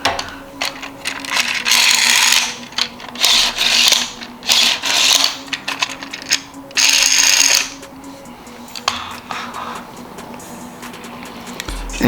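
Plastic Beyblade Burst launcher parts being screwed together by hand with the string held under tension, giving repeated close scratchy rubbing and clicking bursts separated by brief quieter gaps.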